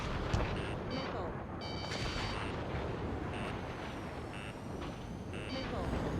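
A missile warning alarm in the Ace Combat 7 jet combat game sounds as a series of repeated high electronic beeps over a loud, dense roar of jet engines and combat noise.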